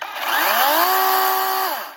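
A small chainsaw with a 12-inch chain bar revs up, holds a steady high whine for over a second, then winds back down, loud and close with no talk.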